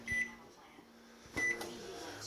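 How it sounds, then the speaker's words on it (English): A kitchen microwave oven starts up while running off an inverter power setup: two short beeps, then a low steady hum continues after a clunk as it begins running. "we're about to start the microwave as well."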